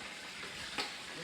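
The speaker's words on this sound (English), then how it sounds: "I'm frying the tilapia, try to stay away from it so it won't jump into my eyes." Salted tilapia fries in a pot of hot oil with a faint, steady sizzle and one brief pop partway through.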